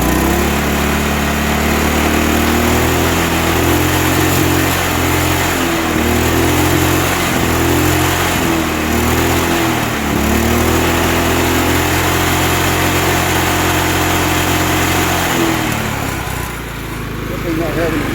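John Deere L110 lawn tractor engine, started after sitting ten years, running steadily for most of the stretch with a droning, slightly uneven note before fading at the end.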